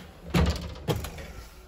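A closet door in a 2007 Puma 39PTQSS travel trailer closes with two soft thunks, the second lighter than the first, close by in a quiet interior.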